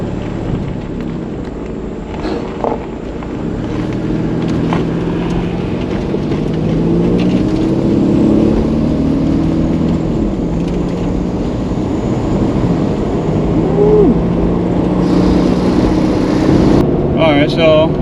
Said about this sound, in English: Alright, so driving pretty good.